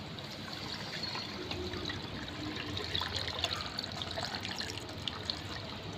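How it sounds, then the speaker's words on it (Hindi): Milk pouring into a jar of chopped apples and sugar for a banana shake, a steady soft trickling stream that runs throughout with no talk over it. "और अब डाल देते हैं जी इसमें दूध।"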